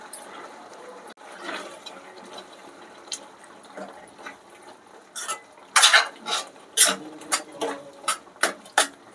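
A spoon stirs tamarind leaves and raw prawns into a curry in a pan, giving soft wet scraping at first, then a run of sharper metallic clinks and scrapes against the pan, close by and fairly quiet.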